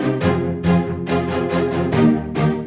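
An Action Strings 2 string ensemble plays dry with no reverb: a run of six or seven sharp, crisply attacked staccato chords in a steady rhythm, loud and close, each cutting off quickly.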